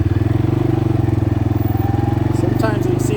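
A 2022 CFMoto CForce 500 ATV engine drones steadily in low gear on a mountain ride, a loud, close, evenly pulsing idle-like throb with no talking over it.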